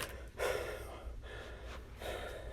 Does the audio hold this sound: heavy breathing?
yes